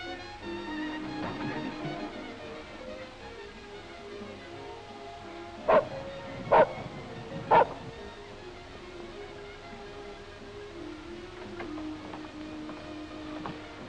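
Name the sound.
dog barking outside in the back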